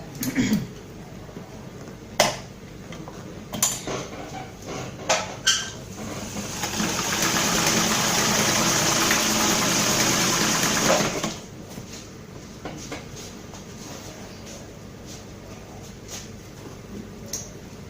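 A sewing machine stitches pleats in one loud, steady run of several seconds, set between scattered clicks and handling knocks in a quiet room.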